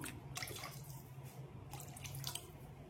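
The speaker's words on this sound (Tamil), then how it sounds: "இப்போ நான் இன்னும் கொஞ்சம் அளவுக்கு தண்ணி வந்து சேர்த்துக்கிறேன்" Water poured from a tap-like stream into a pot of tamarind curry with cowpeas on the stove, a faint steady splashing trickle throughout, alone without talk.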